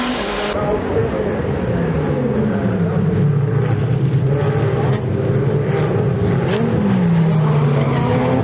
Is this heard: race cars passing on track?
yes